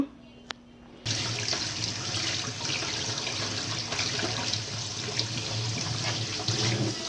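Tap water pours steadily into a large bowl for washing leaves, a constant full splashing stream that starts abruptly after a brief quiet moment and continues close and loud to the end.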